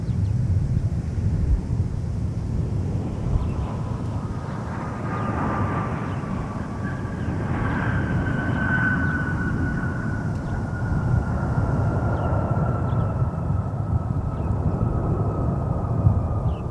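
A Boeing 757 airliner at MSP airport passes at a distance, a broad steady roar with a faint rising whine that stays level against wind noise throughout.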